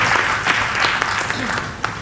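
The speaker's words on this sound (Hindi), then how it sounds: "जरा जोरदार तालियां आप अंकिता के सम्मान में बजा।" An audience at a Hindi poetry recital in a society hall bursts into applause, a close, steady wash of clapping with a voice speaking over it.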